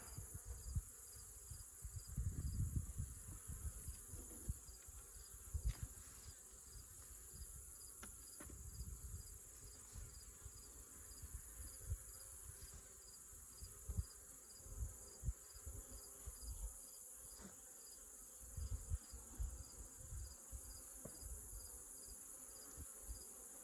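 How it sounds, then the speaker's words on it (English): Honey bees on a frame from a weak, crowded hive keep up a soft, continuous buzzing hum with scattered faint knocks, quiet and close with no talking. "As you can see, there's quite a bit of bees on there."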